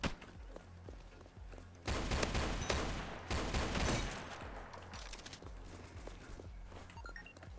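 Video game gunfire rattles in rapid automatic bursts, starting faintly, then surging into a dense, loud stretch of shots that gradually fades into softer sporadic fire and clatter.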